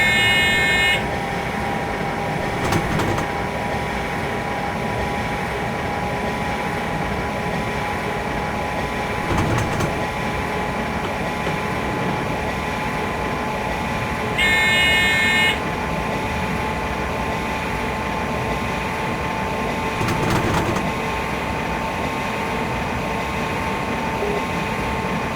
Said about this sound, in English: Our train is now braking for the speed limits at Luneburg